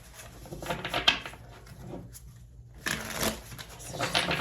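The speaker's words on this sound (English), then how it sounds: "my cards are not wanting to shuffle here" Tarot cards riffle and shuffle in quick papery bursts, broken by a brief pause, close and fairly quiet.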